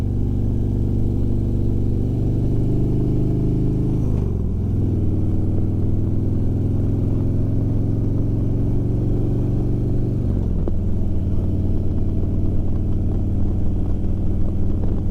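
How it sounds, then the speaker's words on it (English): Motorcycle carrying two riders, its engine droning loudly and steadily, with two quick drops in pitch as it downshifts before a turn. "Another downshift prior to the turn."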